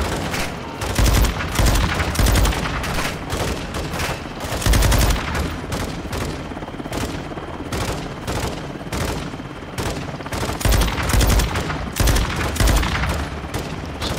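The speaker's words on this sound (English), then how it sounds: "Well, I guess I'll just stay here and shoot then." Call of Duty: Modern Warfare 2 (2022) gameplay fills with nonstop automatic gunfire, rapid bursts and overlapping shots rattling loudly and evenly throughout, with no pause.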